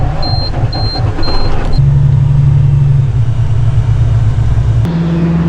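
A truck engine rumbles loudly as it drives in under a farm seed cleaner handling wheat, barley and beans, with a few short beeping tones at first, then a shift to a deeper, steadier drone.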